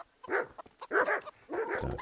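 A dog in Kingdom Come: Deliverance barks three times close up, each a woofing bark in a loose rhythm with brief gaps between them.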